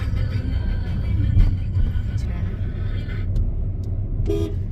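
Steady, heavy road traffic rumbles throughout during a festival, with a short car horn toot near the end; a faint voice is briefly audible under the noise.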